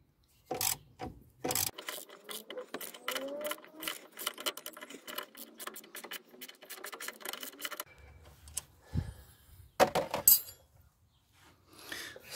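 Brake caliper bolts on a Rover 45 are undone with a ratchet, giving bursts of rapid clicking and metallic mechanism noise, close and moderately quiet, with short pauses between runs.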